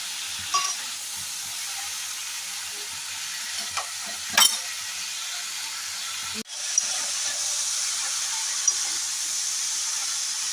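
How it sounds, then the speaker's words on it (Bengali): Tomato fries in a pan for pui metuli chorchori, a Bengali Malabar spinach dish, giving a steady close sizzle and hiss with a few sharp stirring clicks and scrapes against the pan. "টমেটোটাকে মিশিয়ে দিচ্ছি টমেটোটাও এর সাথে বেশ সুন্দরভাবে ভাজা ভাজা হবে"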